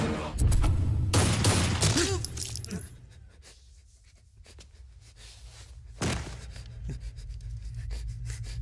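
Gunfire in a Hindi-dubbed South Indian action movie: a loud burst of shots for a few seconds, then a quieter stretch and another sharp blast over the film's background sound.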